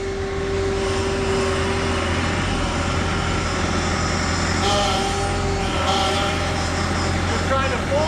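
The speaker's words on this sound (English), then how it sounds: "What you're hearing is that cavitation of all that air being pushed through the pump." Hydraulic pump on a Bobcat E45 mini excavator cavitating as air is purged from the tanks, a steady loud droning whine with a tonal hum running throughout, engine roll underneath and brief shifts in strain.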